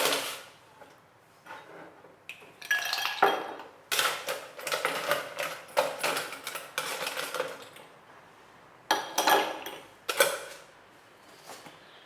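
Ice clinking and rattling in a glass while serving a coffee shakerato on the rocks, a string of close, bright clatters and knocks, then a short pause and a few more clinks.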